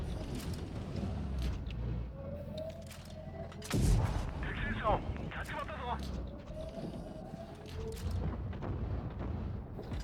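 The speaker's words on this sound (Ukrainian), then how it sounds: "Ви ставите каток і стріляєте по супротивнику." Tank cannon fire in World of Tanks Blitz, a single heavy booming shot around the middle, rising over a steady engine rumble and game noise while someone talks throughout.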